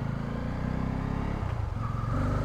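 A Bajaj Pulsar F250 motorcycle engine runs on a test ride, a steady low droning rumble with slight shifts in pitch, fairly loud and without talk.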